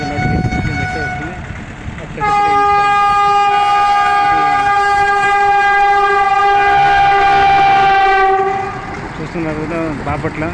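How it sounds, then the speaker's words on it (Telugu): A train passing through Bapatla railway station, sounding a long, loud multi-tone horn over rumbling wheels and carriage noise, the horn sustained for several seconds before fading back into traffic-like rumble. "సో చక్కగా ఒకటి ట్రైన్ వెళ్ళిపోయింది"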